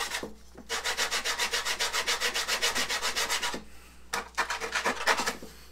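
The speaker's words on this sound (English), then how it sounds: "Sand that all down." Wood on aircraft wing ribs being sanded down by hand, with rapid rhythmic back-and-forth rasping strokes that are loud and close. A brief pause comes before a second burst of strokes.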